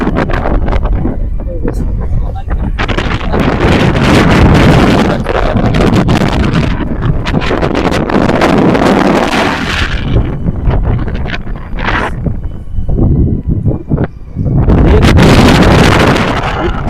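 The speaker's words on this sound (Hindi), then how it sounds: "बहुत तेज हवा है यार।" Strong wind buffets the microphone aboard a small wooden boat out on the water, a loud, roaring rumble with gusts rising and easing, while people talk over it at times.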